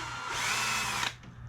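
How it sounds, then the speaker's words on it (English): A power drill fitted with a bit bores through a part of a free push mower, whining steadily and close for about a second before stopping abruptly. "take my drill bit, or my drill with my bit, put it through very carefully"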